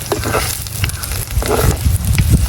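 Green chillies and fenugreek sauté in hot oil in a Jaffna home kitchen, with a loud continuous sizzle and crackle and some stirring scrapes, close to the pan.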